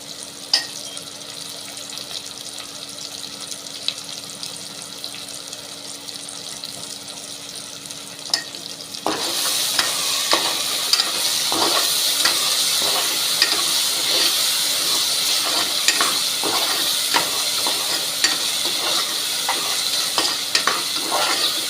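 Tomatoes sauté in a pan with turmeric and salt for tomato rice, a quiet low sizzle that jumps to a louder, brighter crackle partway through, with scattered stirring clicks throughout.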